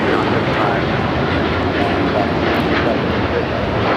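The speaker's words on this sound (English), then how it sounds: "This is Japan Airlines Flight 61 taking off to Tokyo Narita on the 787-9 Dreamliner." A Japan Airlines Boeing 787-9 Dreamliner takes off from LAX, its engines a loud, broad, steady roar, with people talking over it.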